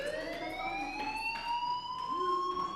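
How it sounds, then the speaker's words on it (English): A fire alarm in the video game Life Is Strange wails continuously with a rising, siren-like electronic tone, steady and clear with no talk over it. "do you hear that fire alarm?"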